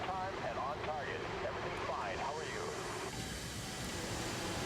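An F-4E Phantom jet in War Thunder flies with a continuous loud engine roar filling the whole clip, with a steady rumbling drone and some warbling tones over it, without pauses.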